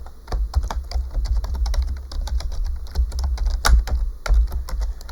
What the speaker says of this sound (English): I'm going to go ahead and type in some HTML tags here to get this page started